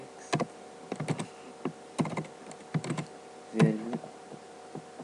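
Keys clatter on a computer keyboard in short irregular bursts of clicks with pauses between, typed while coding a C# database connection, fairly close and alone without talk.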